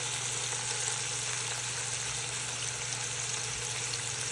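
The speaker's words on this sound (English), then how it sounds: "our burgers have been cooking for about 2 minutes on this other side" Burger patties fry in a pan on their second side with cheese melting on top, giving a steady, even sizzle with no break and no voices.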